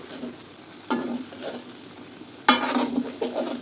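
A spoon stirs a vegetarian mixed vegetable curry in a pan after turmeric, chili, cumin powder, garam masala and a little sugar go in, with two distinct scraping strokes over a low, quiet cooking hiss.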